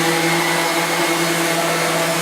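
A sander runs with vacuum dust extraction fitted with a filter, giving a steady, loud whirring hum with a constant tonal whine, unbroken throughout and with no voices.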